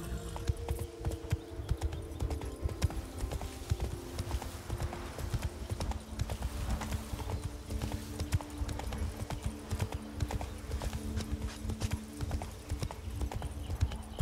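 Horse hooves clip-clopping at a steady trot while riding in The Witcher 3: Wild Hunt, Blood and Wine, a close and continuous rhythmic beat with occasional snorts and some voices over it.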